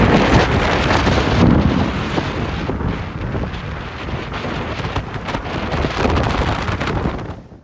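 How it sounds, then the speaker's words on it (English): Strong wind buffets hard at a high cliff edge, a loud continuous roaring rush against the microphone that surges and eases without pause. "It's very windy. I'm holding on because I'm right on the edge. It's really, really windy."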